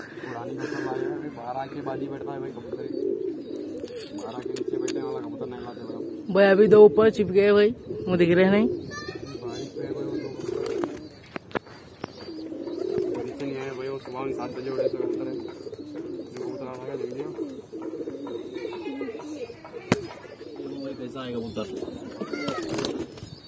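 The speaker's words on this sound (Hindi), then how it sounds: "शानदार बहुत शानदार कबूतर है भाई" Pigeons coo close by in repeated soft, rolling bursts, sometimes overlapping, while someone talks over and between the calls.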